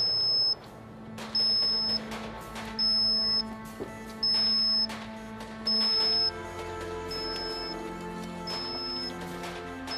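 An electronic alarm goes off during a combat training exercise, sounding as a series of short, loud, high beeps at an even pace, with a steady low hum running underneath throughout.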